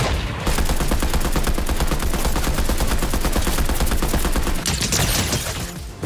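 Suppressed SMG fire in the Fortnite video game, a continuous rapid burst of evenly spaced muffled shots filling the whole stretch, loud and without talking.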